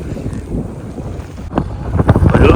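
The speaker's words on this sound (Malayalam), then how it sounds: "കടൽ തിരമാല തന്നെയാണ്" Sea waves wash onto a beach under strong wind buffeting the microphone, a rough, rumbling surge that swells louder toward the end, with no voices.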